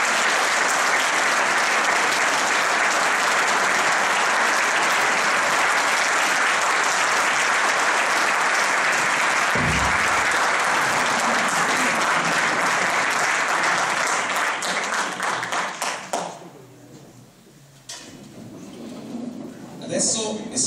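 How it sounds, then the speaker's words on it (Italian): A concert crowd at a year-end concert in Manfredonia gives the conductor loud, sustained applause, a thick wash of clapping that holds for about fifteen seconds before thinning and tapering off near the end. "vorrei un grosso applauso per il maestro, direttore e concertatore Giovanni Esposto."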